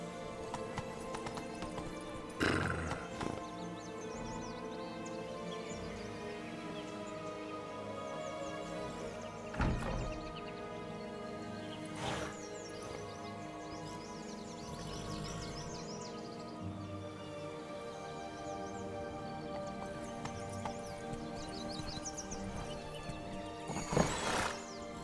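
Roach the horse galloping in The Witcher 3 video game, steady clip-clop hoofbeats running throughout with a few louder thumps, soft bird calls in the background and no clear neigh.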